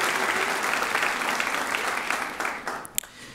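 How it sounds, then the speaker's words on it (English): A crowd at a university student teacher recognition ceremony gives sustained applause for award recipients, full and steady before thinning out to a few last claps. "Give them another round of applause."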